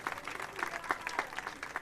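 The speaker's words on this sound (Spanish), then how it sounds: "¿Quieren darle un aplauso al Señor?" Congregation at a 2022 church women's retreat bursting into brisk, dense applause, many hands clapping together close by for a short burst.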